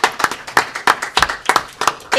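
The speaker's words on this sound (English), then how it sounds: "Please give me a big round of applause for Adam" An audience claps for a panelist at a panel event, a round of close, distinct handclaps in an uneven rhythm with a brief voice between them.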